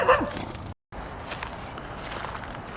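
Footsteps approach an abandoned, overgrown house outdoors, a few soft, uneven treads close by with a brief dropout partway through and quiet rustling around them.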